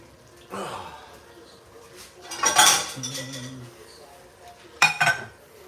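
A metal strainer clanks and rattles against dishes and cutlery in a home kitchen in a few short bursts, with a brief ringing tone between them and soft breathy vocal sounds nearby.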